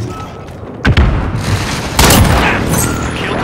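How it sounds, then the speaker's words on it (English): Video game airstrike explosions, two heavy booms about a second apart, each followed by a rumbling roll of blasts and crackling debris that fades into a sustained low roar. "Allied precision airstrike incoming"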